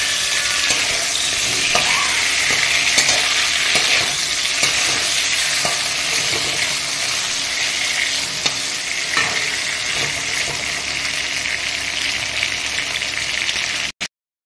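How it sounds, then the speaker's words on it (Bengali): Four large hilsa fish heads fry lightly in a pan with a steady, loud sizzle, broken now and then by the scrape and clatter of stirring; no voices. "আমি চারটে বড় মাছের মাথা দিয়েছি, এটা একটু ভেজে নিয়ে তারপর"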